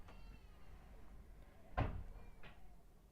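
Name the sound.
gates banging outside in the wind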